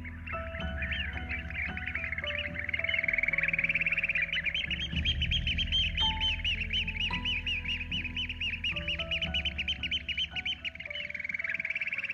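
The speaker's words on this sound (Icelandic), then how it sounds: "Fugl dagsins er tjaldur." A Eurasian oystercatcher calls in a long run of rapid, shrill piping notes, loud and close, with no voices over it.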